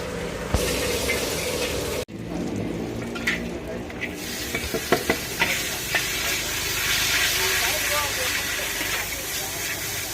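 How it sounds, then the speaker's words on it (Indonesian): Fried rice (nasi goreng) sizzles and hisses in a pan at a street food stall, with scraping and clanking utensil hits and voices in the background. "masih goreng nasinya"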